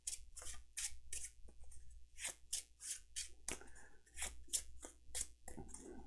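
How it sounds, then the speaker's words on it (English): Cards for the Arkham Horror card game being shuffled, a series of crisp riffling bursts in an irregular rhythm, close and fairly quiet, with no talking over them. "I've already started shuffling"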